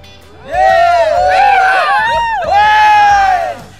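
Storybook cheering sound effect: a loud burst of many excited voices shouting and whooping together, swelling in two waves before fading, close and lively.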